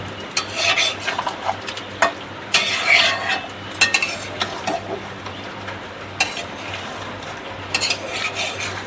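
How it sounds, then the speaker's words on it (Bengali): Potatoes are stirred into hot oil in a pan for Kashmiri aloo dum, with irregular scraping clinks of a metal utensil against the pan over a soft, continuous frying hiss and no talking. "এবার এতে আলুগুলো দিয়ে নেব। এটাকে এর সাথে এখন ভালো করে মিশিয়ে নিচ্ছি।"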